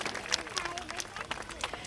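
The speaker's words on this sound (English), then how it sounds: "Big round of applause." An audience applauds at a sea lion show at a zoo, a crowd of hands clapping in a steady patter, fairly faint, with a voice talking over it.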